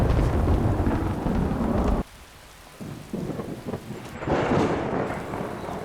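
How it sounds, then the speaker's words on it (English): Loud thunder rumbles through heavy rain in the video game Skyrim SE, the storm sound cutting out for a moment before booming back in a dense, roaring wash with no voices. "God, that thunder. It's so loud."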